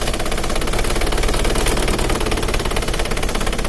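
An Isuzu Panther diesel engine idling roughly at low RPM, with a loud, steady rapid mechanical clatter that runs continuously without pause.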